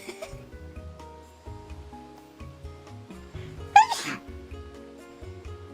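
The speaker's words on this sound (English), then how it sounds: "Look, I sneezed." One sharp sneeze bursts out about two-thirds of the way through, loud and close, over quiet background music and soft voice sounds.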